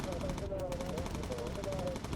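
Rapid, continuous gunfire from an enemy fighter's cannons in the video game Bomber Crew, loud and steady throughout with a droning engine tone underneath.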